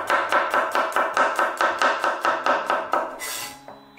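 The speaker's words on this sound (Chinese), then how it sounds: "几颗蒜子给它切成蒜片。" A kitchen knife slices garlic cloves on a cutting board in a steady run of about a dozen quick, crisp chops, close and clear with no talking.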